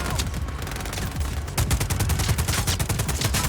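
Rapid, loud bursts of automatic gunfire and overlapping shots crackle through a Just Cause 4 firefight, dense and continuous with sharp repeated reports.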